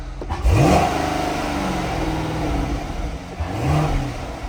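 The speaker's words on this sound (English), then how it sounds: "let's give it a couple revs" A 2017 Chevrolet Corvette convertible 1LT automatic engine revs hard once, then idles with a steady rumble before a second, smaller rev near the end, close and loud.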